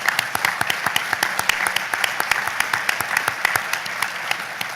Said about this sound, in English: Let's give all six a round of applause